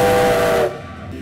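A loud, sustained five-tone steam locomotive whistle blares, then cuts off abruptly, leaving a faint hiss.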